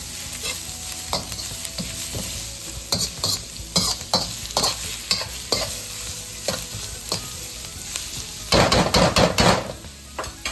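Rice frying in butter with carrots, onions, ginger and garlic, a steady sizzle broken by repeated stirring scrapes and clanks, with a burst of busy scraping near the end; close and loud, no talking.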